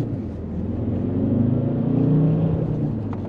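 Alfa Romeo Brera diesel, a Giugiaro-styled coupe, accelerating hard: a steady, close engine rumble with a rising drone that swells through the middle and holds to the end, with no talk over it.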